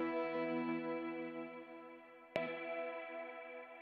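Clean guitar amp tone with baked-in reverb, sustained chord ringing steadily with a sharp pick attack partway through and a smooth reverberant tail, no voices.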